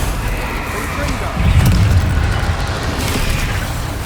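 Confringo spell explosions in Hogwarts Legacy, a dull boom swelling midway over a rumbling battle background while a voice calls out spells.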